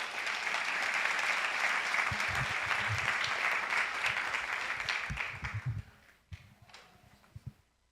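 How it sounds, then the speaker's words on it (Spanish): A church congregation gives a loud round of applause to the Lord, a dense wash of clapping that holds steady, then thins to scattered claps and fades out near the end. "Dale un fuerte aplauso al Señor."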